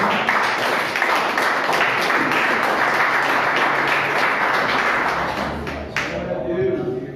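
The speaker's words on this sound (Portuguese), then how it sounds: "E as palmas engrandecem o Senhor." A church congregation applauds loudly and steadily for several seconds, dense clapping with voices mixed in, tapering slightly at the end.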